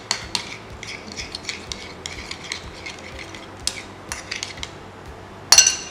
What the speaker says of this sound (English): So we'll just mix our ingredients together.